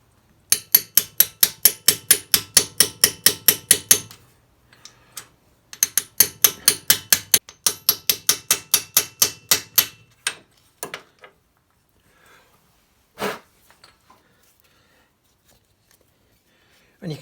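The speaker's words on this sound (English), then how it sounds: "I'm just going to tap that in really gently" A light 4-ounce hammer taps a part into a Kawasaki KZ650C motorcycle in rapid runs of small metallic ticks, two long bursts followed by a few sparse, isolated taps, close and crisp.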